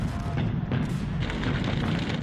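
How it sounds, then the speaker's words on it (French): German artillery cannons firing on invasion beaches during the Second World War, a continuous heavy rumble of distant booms and thuds without clear separation between shots. "Mais les canons allemands sont là."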